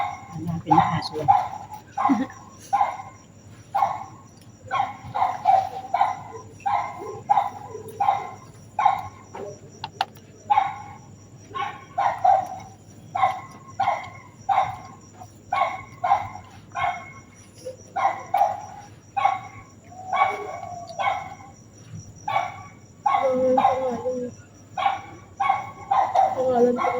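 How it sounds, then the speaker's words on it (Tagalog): A dog barks repeatedly at night in a cemetery, in regular loud yaps and whimpers at moderate distance, with crickets chirring and people talking quietly underneath. "Hanapin na aso yan."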